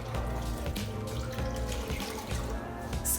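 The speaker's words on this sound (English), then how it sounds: "so we're just gonna wet this cloth." Tap water runs steadily into a sink as a cloth is wetted, a continuous splashing rush at close range with slight fluctuations, no speech over it.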